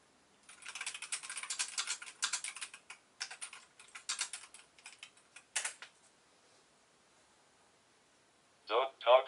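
Rapid typing on a computer keyboard, a dense flurry of close clicking keystrokes that thins into scattered taps and falls silent, with a short electronic chirp at the end.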